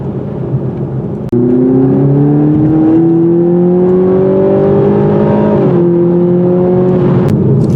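A 2021 Toyota Supra with a 4-cylinder engine revs hard from close range, its loud droning pitch climbing steadily, dropping briefly at a gear change, then pulling on again with no talking.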